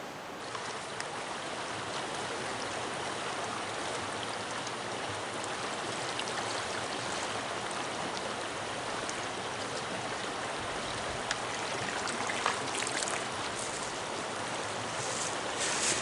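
Stream water runs steadily near Buckman Brook while a 1-gallon filtration bag is filled, a continuous close rushing wash with no pauses and no voices.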